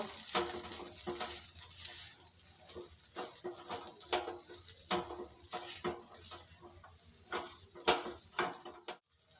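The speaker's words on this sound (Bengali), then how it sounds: "এবার আর কিছুক্ষণ একটু নাড়াচাড়া করে নেব" A spoon stirs a snack mixture in a hot pan, giving irregular scraping strokes and clinks over a light sizzle, close and moderately loud, with no voices.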